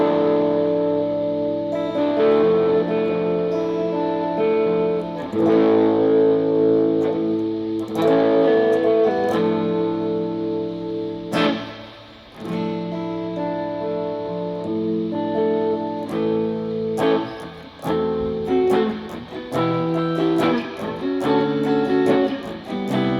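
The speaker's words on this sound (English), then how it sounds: "Now that's a lot of distortion, but it's pretty." An electric guitar with a split-coil pickup plays chords and single notes through a germanium fuzz preamp into a fuzz pedal, heavily distorted, saturated and sustained, with no talking.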